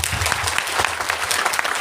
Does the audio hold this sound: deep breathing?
no